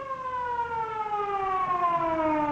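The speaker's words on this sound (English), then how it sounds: "Sounds like an ambulance." An ambulance siren wails, sweeping steadily downward in pitch, loud and sustained, with no talking.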